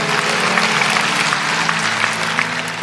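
A church congregation claps steadily throughout a sermon service, a dense, even wash of applause with faint sustained tones underneath.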